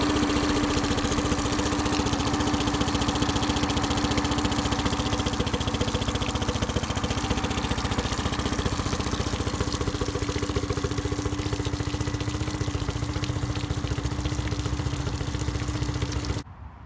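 A Honda BF15 outboard motor idles steadily and close by, its even mechanical drone and faint ticking running unbroken for the whole stretch before cutting off abruptly at the end.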